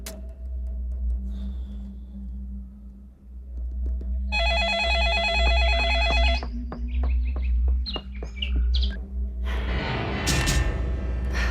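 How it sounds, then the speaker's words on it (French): A telephone rings repeatedly in short electronic bursts with no answer, clear and fairly close against a low steady background hum, with brief clicks and rustling afterward. "Personne ne répond, Elena."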